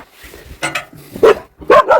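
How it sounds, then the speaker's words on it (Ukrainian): A dog gives a few sharp, loud barks close by, with quieter yips and whines in between. "Оце тільки починає гавкати."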